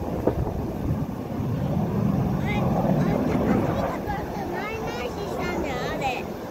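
A Mitsubishi F-2 fighter jet takes off at Hyakuri air base, a broad, steady distant roar that swells and holds throughout while people chat nearby.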